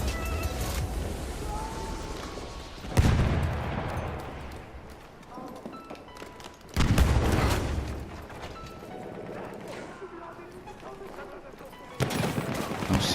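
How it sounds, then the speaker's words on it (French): A rapid-firing gun in the video game Battlefield 1 lets off several short bursts of gunfire, sharp loud onsets around 3, 7 and 12 seconds fading out between them, with game ambience and a voice speaking over it. "C'est une arme qui tire assez rapidement."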